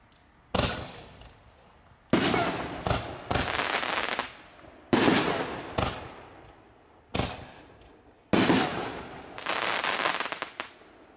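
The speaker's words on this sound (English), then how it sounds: "Good variety of shells in that." Consumer firework artillery shells, including dilated breaking shells, burst in a series of about eight loud, sharp explosions spaced irregularly, each ringing out with a crackling tail, with no talk.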